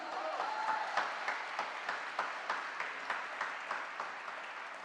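A church audience applauds at a Catholic talk, with steady, even clapping from a crowd that holds for several seconds at moderate volume.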